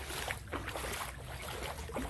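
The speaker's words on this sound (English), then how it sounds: "I feel like I'm splashing around like a little ducky." Footsteps wade through flood water inside a house, giving close, repeated sloshing splashes in a loose walking rhythm with no speech.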